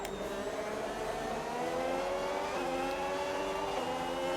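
Racing-game cars, an Aston Martin and a Ferrari, roar loudly and steadily at high revs, engine pitch climbing and dropping through gear changes as they battle on track, with no voices over them.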